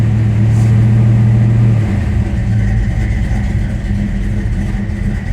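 A car with a carburetor idles after a cold start, a loud steady low engine hum close by with a slight shift in pitch partway through as the idle settles, no talking.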